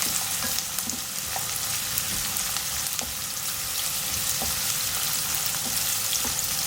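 Coarsely chopped onion frying in a pan, with a continuous crackling sizzle and occasional soft taps of a spoon against the pan, close and moderately loud.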